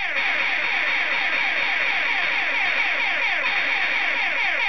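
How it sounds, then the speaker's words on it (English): Quazer on an Acorn Archimedes A3010 blares its game music and effects through the computer's internal speaker, a loud, harsh, buzzy stream of fast repeating chirps and sweeps, with no voices. "All that noise is coming out of the Archimedes internal speaker"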